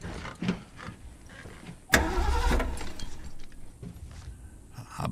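A car in The Last of Us Part II video game tries to start on a dead battery: a sudden loud mechanical clunk followed by a weak, labored cranking rumble that fails to catch, with quieter clicks around it.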